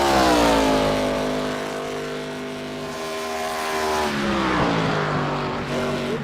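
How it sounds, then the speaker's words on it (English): A NASCAR ARCA Series race car in iRacing on an oval track, engine droning loud with clear harmonic whine, pitch shifting as it comes off the turn and down the backstretch, steady and close without talk. "Brandon Lopez in the 3 machine making his way off of turn number 2"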